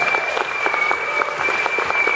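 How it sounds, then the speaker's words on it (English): Audience applause at a Dragon Con 2014 Falling Skies convention panel, a dense, steady burst of clapping from a crowd lasting throughout, fairly close and loud with no talk over it. "Big round of applause for yourselves."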